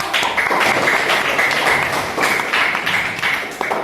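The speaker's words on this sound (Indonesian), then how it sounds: "sekarang dulu tepuk tangan dulu ke kelompok 4" A classroom group applauding fellow students after a presentation, brisk overlapping claps filling the room for a few seconds.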